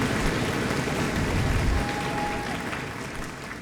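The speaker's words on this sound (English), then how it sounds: "Let's give them a round of applause." An audience applauds after a sixth-grade all-county children's chorus concert; steady clapping from a crowd fills the whole stretch, fading slightly toward the end.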